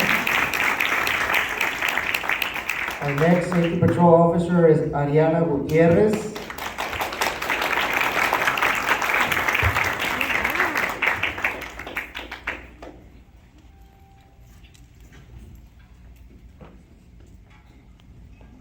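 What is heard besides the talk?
applause for safety patrol officers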